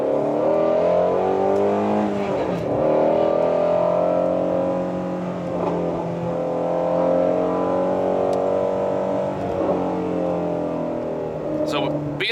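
Shelby GT350R engine winds up to high RPM while driving, loud and continuous from inside the car, its harmonics rising and dipping across repeated revs before tapering.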